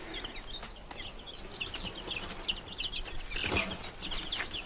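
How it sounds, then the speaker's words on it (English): Several chickens, including a blondish hen with speckled wings, cluck and chirp in a steady, busy chorus at close range, with occasional wing flutters and scuffling. "he ended up with some chickens"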